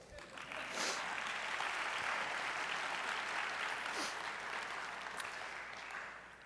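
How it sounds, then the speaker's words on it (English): Audience at a university health sciences scholars day applauding student researchers, a steady wash of clapping from a large crowd lasting several seconds at moderate volume. "That deserves a round of applause"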